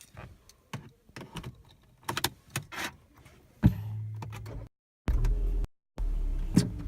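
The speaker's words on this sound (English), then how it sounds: "Okay, so car's started up." A 2013 BMW MINI R56 is started after a few interior clicks and taps, and a steady, low engine hum takes over, briefly cut by short gaps of silence.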